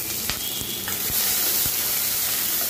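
Chopped onions fry steadily in hot oil with whole cinnamon and black peppercorns for a capsicum chicken curry, a continuous close sizzle broken by a few soft clicks of stirring.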